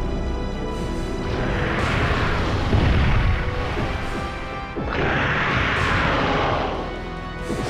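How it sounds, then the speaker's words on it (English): Mr. X, the Tyrant from Resident Evil, smashes through the roof in a loud game crash: two heavy rumbling impacts with falling debris, each swelling and fading, alone with no voices. "in Darkside Chronicles we just hear that loud crashing of the roof, indicating that he's arrived"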